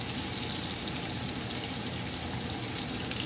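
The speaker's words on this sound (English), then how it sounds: "Now I'm going to let this sear for 4 minutes" Ribeye steak searing in a hot cast iron pan, a steady loud sizzle and crackle running unbroken from start to finish with no voices.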